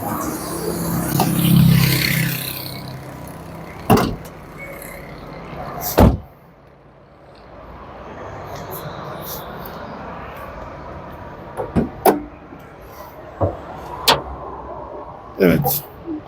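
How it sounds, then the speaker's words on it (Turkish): A car's engine hood is opened at the start of a driving exam: a couple of sharp latch clunks and thumps among outdoor traffic hum, with people talking nearby. "motor kaputunu açarak başlıyoruz"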